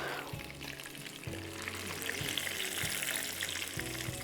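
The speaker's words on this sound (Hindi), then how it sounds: "इसको बहुत हल्के पे तलना है" Chicken cordon bleu fries gently in oil over low heat, giving a steady, soft sizzle with a few low clunks of the pan or utensils.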